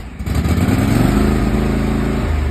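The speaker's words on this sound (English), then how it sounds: "He entered the building from the front and started up the tractor" A lawn tractor engine catches and starts, then holds a loud, close, buzzing rev that stays steady before easing slightly near the end.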